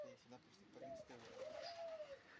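Pigeons in a rooftop aviary cooing, a few soft rising and falling calls that are moderately close, under a light background hum.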